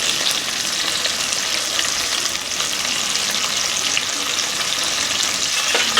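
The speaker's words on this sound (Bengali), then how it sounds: "এটা আমি খুব ভালো করে নেড়ে নেব।" Soybean curry spices, including poppy seed paste, fry in a pan with a steady, loud sizzle. A spoon stirs and scrapes through them close up, and no voice is heard.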